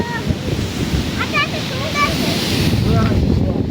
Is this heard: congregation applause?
no